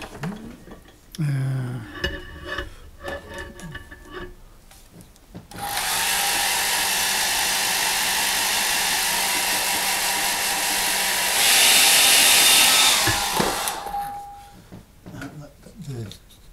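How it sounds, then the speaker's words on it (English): A hair dryer drying a watercolour painting switches on and blows steadily for about eight seconds, rising briefly in pitch and loudness near the end before cutting off, with someone talking before and after. "Right, let's hair dry."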